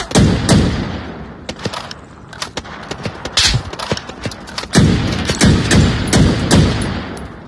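Rapid gunfire in the VR shooter Onward, with dense bursts of automatic fire and scattered single shots across the whole stretch, loud and close at times, with no talking over it.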